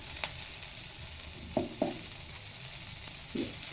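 Tomato pieces fry in oil in a pan, giving a soft continuous sizzle punctuated by a few light clicks of stirring, fairly quiet with no voices.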